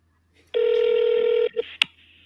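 A phone call rings out on the line to a Keller Williams real estate agent, a steady electronic ring tone holding for about a second, then a short blip and a click before the line changes, alone with no talk.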